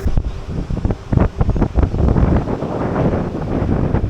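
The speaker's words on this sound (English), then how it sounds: "It's always going to be more windy by the sea." Gusty seaside wind in Tenerife buffets the microphone in rumbling bursts, with a faint wash of surf behind it, loud and close.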